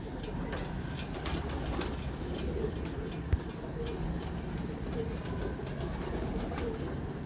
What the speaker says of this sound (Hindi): ये कबूतर है 18 नंबर, मेन बड़ा कबूतर 18 नंबर